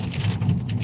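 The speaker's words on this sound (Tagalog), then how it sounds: "malakas yung ulan." Heavy rain pours down in a dense, continuous roar of drops beating on surfaces, loud and steady throughout the brief moment, with no voices.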